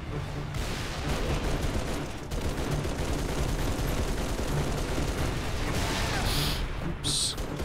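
Battle rifle fire in Halo 3 amid a dense, loud, continuous battle din of rapid shots and rumbling blasts that barely lets up.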